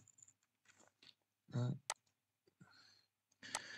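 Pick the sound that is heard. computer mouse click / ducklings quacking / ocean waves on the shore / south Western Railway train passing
computer mouse click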